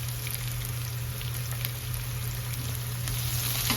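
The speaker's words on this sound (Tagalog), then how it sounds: "So, lutuin lang natin ng bahagya yung sibuyas." Onions sauté in a hot pan in a home kitchen, a steady, close, even sizzle and crackle running throughout with no talk.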